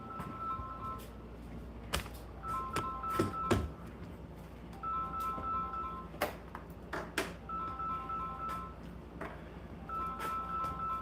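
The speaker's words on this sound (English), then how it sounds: "My phone ringing over here." A mobile phone rings nearby in repeated short bursts of a two-tone trilling pattern, separated by pauses, over a low background hum and scattered knocks and clicks.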